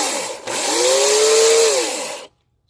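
A WORX 18-inch 15-amp electric chainsaw spins up with a loud, steady motor whine that rises and holds for about two seconds, then cuts off abruptly into silence.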